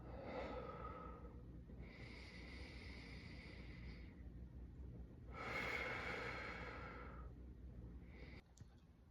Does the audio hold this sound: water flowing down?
no